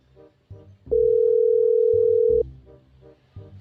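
Telephone ring-back tone during a call, one steady electronic beep lasting about a second and a half over faint, muffled background chatter.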